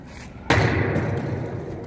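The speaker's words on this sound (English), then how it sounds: "I also want to show you the best bottle flipper" A water bottle flipped into the air lands with a single sharp thud, loud and close, followed by a lingering broadband rustle and room noise.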